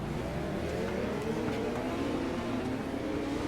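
Dirt race car engines idle and rumble together on the grid at Limaland Speedway, a steady mass of low droning motors with occasional rising revs, heard from a moderate distance.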